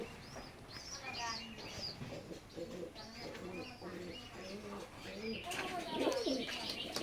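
A pair of new adult Oman blood line teddy pigeons coo softly in repeated low phrases, mixed with scattered chirps and busy background noise.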